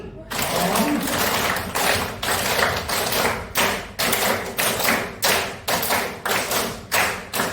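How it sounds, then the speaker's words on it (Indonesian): A classroom group claps in response to a teacher's counting cue, a series of rapid, sharp claps close by, speeding into a steady rhythmic run of about a dozen bursts. "Tepuk 5 kalinya 5 kali."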